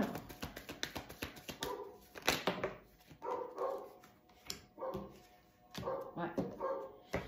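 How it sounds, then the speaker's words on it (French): A pet dog barking in short bursts and whimpering in between, fairly quiet and indoors, with someone talking over it. "Je suis désolée, vous entendez mon chien."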